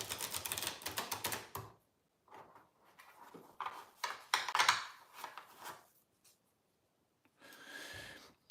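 Tarot cards being shuffled by hand: bursts of rapid, crisp card flutters and clicks, close and fairly quiet, separated by short pauses.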